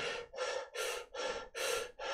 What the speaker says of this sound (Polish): zamiast robić płytkie wdechy do klatki piersiowej w ten sposób